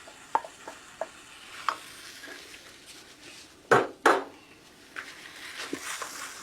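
Diced and grated apples cook in a pan with a soft, low sizzle. Sharp scrapes and clacks of a utensil stirring against the pan break in now and then, with two louder scrapes in the middle.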